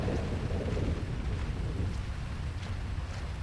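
Low rumbling thunder rolling under a wash of rain, a deep steady roar without sharp cracks, from the video game GTA 5.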